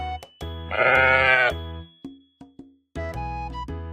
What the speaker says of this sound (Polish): To jest owca.